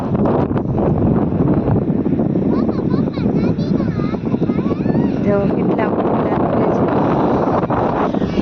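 Strong, cold wind at a seaside port buffets the microphone in a steady, loud roar, with voices faintly audible underneath.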